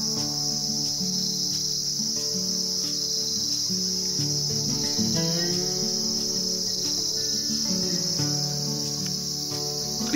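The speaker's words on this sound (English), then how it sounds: "listen to the crickets" Dense, continuous chirping of crickets fills the night air in a Kashmiri apple orchard, a steady high trill with other insects and faint low sounds beneath.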